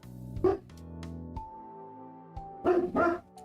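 A dog barks twice, a single close bark followed a couple of seconds later by a louder double bark, over a low steady hum in a quiet indoor room.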